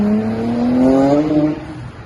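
Nissan R32 GT-R with a built 2.6 engine and full Tomei titanium exhaust revving hard, a loud, close, rising engine note that climbs and then falls away over about two seconds.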